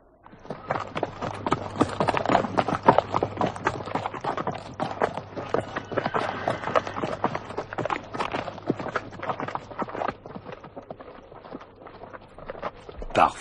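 Quick, continuous hoofbeats of a galloping horse, close and busy, a rapid clatter that keeps going throughout.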